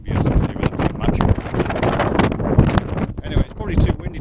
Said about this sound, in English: it's probably too windy to put this video on the YouTube